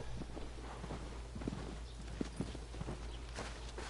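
Horse hooves walking in the PS4 remake of Shadow of the Colossus, a steady, unhurried clip-clop of moderate loudness over a low constant hum.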